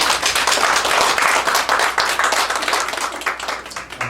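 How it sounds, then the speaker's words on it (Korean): Church congregation clapping hands together during a sermon, a loud, dense burst of many hands that holds steady and then gradually thins out toward the end. "하나님께 박수 한번."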